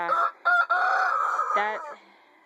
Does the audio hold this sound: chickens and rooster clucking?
yes